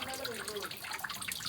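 Spring water flows up from underground inside a cave, a steady soft splashing trickle with light bubbling. Quiet voices murmur faintly beneath the running water.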